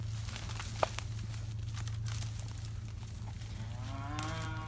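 A single cow moo rises near the end, preceded by quiet shuffling and rustling sounds over a constant low hum.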